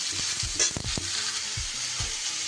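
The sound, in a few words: vegetables and neem leaves being stirred while frying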